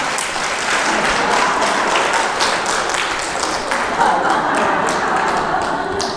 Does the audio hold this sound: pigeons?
no